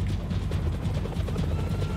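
Helicopter chasing the player in the video game Max Payne 3, a low, steady rotor thrum with rhythmic chopping pulses holding close and fairly loud.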